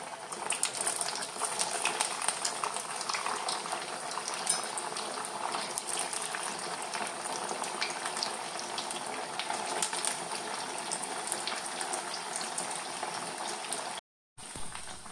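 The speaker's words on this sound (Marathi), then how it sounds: "आता आम्ही एक एक वडे फ्राय करून घ्या." Sabudana vadas deep-frying one by one in hot oil, a dense continuous bubbling hiss held at an even level until a brief cut near the end, with no talking.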